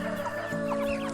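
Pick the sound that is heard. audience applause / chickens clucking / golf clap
chickens clucking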